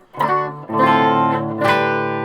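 Electric guitar driven through a germanium fuzz pedal with reverb on, playing sustained, thick distorted chords in three strummed bursts, each ringing out loudly with a reverb tail and no talking.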